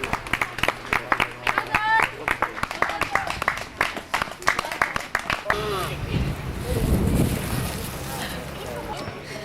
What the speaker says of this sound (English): Applause for the mayor.